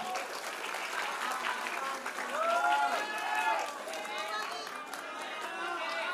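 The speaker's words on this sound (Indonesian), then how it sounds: "Kita tepuk tangan dulu dong untuk Bang Kava" Audience at a Pontianak public Q&A session with a presidential candidate applauds steadily for several seconds, a dense wash of clapping with crowd chatter and voices mixed in throughout.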